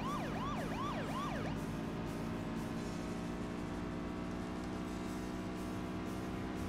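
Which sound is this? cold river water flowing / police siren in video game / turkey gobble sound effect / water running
police siren in video game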